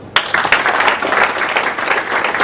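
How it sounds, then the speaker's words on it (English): Audience at a formal government launch event for a national carbon registry breaks into sudden, dense applause that stays loud and steady for a couple of seconds. "Let's give them a clap."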